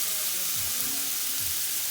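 Steak sears in a hot pan for Mexican street tacos, giving a steady, close sizzle and crackle with a few soft shifts of the meat and no talking.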